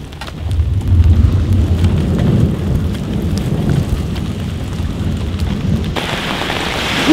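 Steady heavy rain hisses throughout a thunderstorm at a fishing competition while deep thunder rumbles low in the background, swelling early and then fading, with a brief shift near the end.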